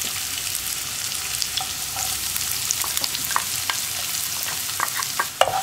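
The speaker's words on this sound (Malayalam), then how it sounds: "സവോളയിലേക്ക് നമുക്ക് ഉപ്പും കൂടി ചേർത്ത് വഴറ്റിയെടുക്കാം" Onions sizzle in hot oil with garlic and fennel while a spoon stirs them, giving a steady close frying hiss broken by small scraping clicks.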